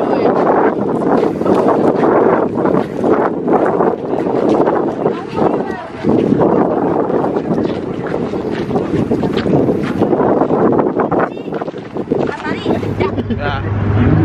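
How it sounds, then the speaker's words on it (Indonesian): A speedboat pulls away across open sea between islands off Jakarta, with a steady loud roar of engine, wind buffeting and water rush throughout while people talk over it. "perahu kita mulai lepas landas untuk menuju ke pulau selanjutnya di Pulau Ondrus"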